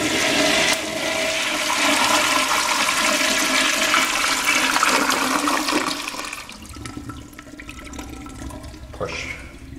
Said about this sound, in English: push button flush.